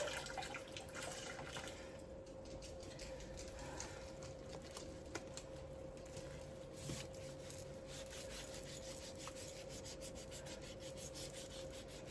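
A pepper shaker rinsed under running tap water gives a faint, steady hiss of flowing water with light rubbing and handling against it, quiet and close.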